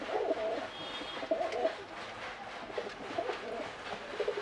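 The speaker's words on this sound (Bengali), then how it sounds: "ওইখানে একটা বিস্কুট পায়রা বসে আছে এটাও একটা মদ্দা" Domestic pigeons, including a male biscuit-coloured pigeon, coo from a home loft in soft, repeated throaty bursts close by, with no voices over them.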